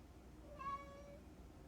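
A single faint, short meow from a cat, soft and somewhat distant over low background hiss.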